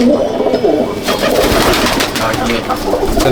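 Arshad line pigeons coo steadily at a loft in Jangipur, Murshidabad, with close, continuous low burbling from several birds.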